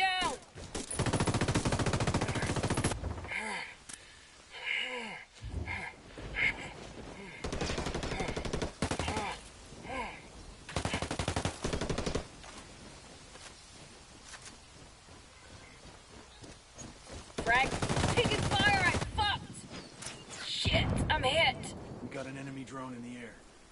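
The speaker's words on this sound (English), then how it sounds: "Taking heavy fire! They got me pinned down!" Heavy gunfire in Ghost Recon Wildlands, with dense rattling machine-gun bursts and repeated shots throughout, loud and close, under a steady layer of in-game talk.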